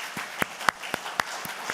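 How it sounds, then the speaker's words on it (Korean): Sparse, irregular applause in a church during a Sunday worship service: a few separate loud claps spaced about a quarter second apart, close and dry, over a quiet room. "우리 환영의 박수"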